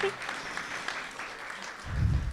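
Audience applause for a national sponsor at an annual heart-awareness event, moderate steady clapping from a crowd with a brief low rumble near the end and possible speech underneath.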